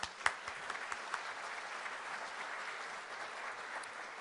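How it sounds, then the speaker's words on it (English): Applause from the audience at a Rotary club meeting, greeting the guests being introduced: a steady, moderately quiet patter of many hands clapping, with a sharper clap near the start, lasting a few seconds. "Let's give them all a round of applause."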